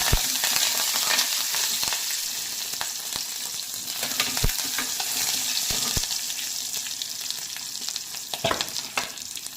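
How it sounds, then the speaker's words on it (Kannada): Green chillies and curry leaves frying in a pan for radish palya, a steady close sizzle broken by repeated sharp spatula taps and scrapes. "ಹಸಿಮೆಣಸಿನ್ಕಾಯಿ ಕರ್ಬೇವಿನ ಸೊಪ್ಪು ಹಾಕಿ ಫ್ರೈ ಮಾಡಿ"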